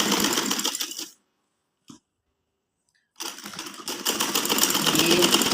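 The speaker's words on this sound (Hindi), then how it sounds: "जो है वो इसकी सिलाई लगा लेनी इस तरह से" A sewing machine stitching a kurti in short bursts: a dense rapid clatter, then a stop with one brief tap, then the stitching resumes and builds louder, close by.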